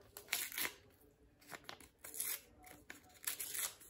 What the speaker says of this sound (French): On va déchirer les bouts aussi.